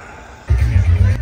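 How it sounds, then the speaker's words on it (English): Holiday train travelling between communities, a strong low rumble starting abruptly and rolling steadily for under a second before cutting off, with a faint background hiss beforehand. "got some great pictures of the train moving between communities."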